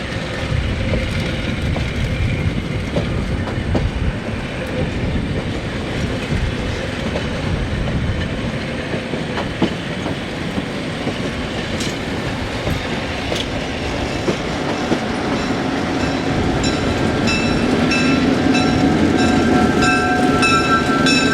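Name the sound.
diesel locomotives and trains on museum railway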